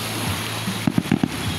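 Fireworks burst at a town fiesta in Naic, Cavite: several sharp, distant pops in a quick cluster over a steady outdoor crowd murmur.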